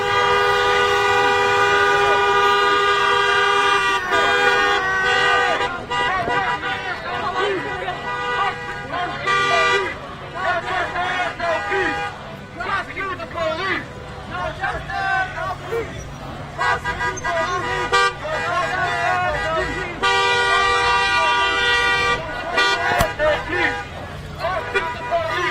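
Car horns honk repeatedly amid dense street traffic at a protest in Minneapolis, long sustained blasts and shorter toots overlapping, loud and near, with voices and crowd noise underneath.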